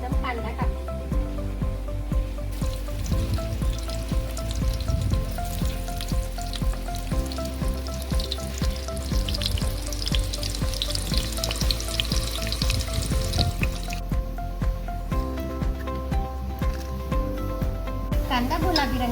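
Onion dropped into hot oil already crackling with cumin and mustard seeds, a steady sizzle under background music and a speaking voice, for a soyabean biryani.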